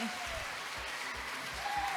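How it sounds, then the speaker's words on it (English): A school audience applauds first and second graders after their summer camp performance, a steady broadband wash of clapping with low rumbling thumps underneath and no clear speech over it. "how about one more round of applause for our first and second graders?"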